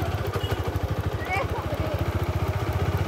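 A motorcycle engine throbs in a fast, steady idle pulse, close and continuous, as bikes circle before a race; a faint voice or two sits under the engine.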